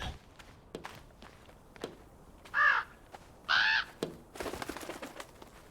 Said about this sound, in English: You a crow or a raven?